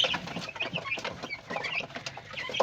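Chickens on a farm cluck and chirp softly at close range, a scattered murmur of short calls with no talk.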